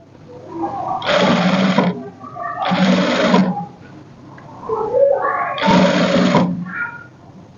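A sewing machine stitches an abaya in three bursts of a second or so each, a close whirring rattle separated by short pauses with faint background noise.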